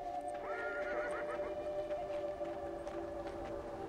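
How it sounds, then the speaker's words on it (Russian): A horse in the video game Beyond: Two Souls gives a clear, drawn-out whinny while its hooves clip-clop along. Steady background music plays throughout. "можно будет скакать на лошади"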